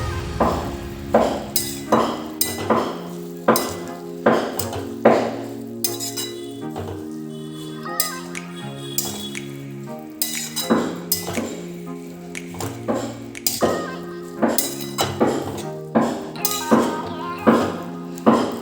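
Chopped fenugreek leaves are stirred into an eggplant curry in a pot, with repeated close metallic clinks and scrapes of a spoon against the pot over tonal background music.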